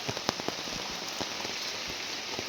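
Steady monsoon rain falls on an areca nut plantation, a dense continuous hiss with a few sharper drops tapping now and then; no voices.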